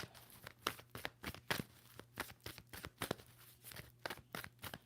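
Tarot card deck being shuffled by hand, a rapid run of crisp papery riffles and snaps in irregular bursts, close and fairly quiet, with no talking.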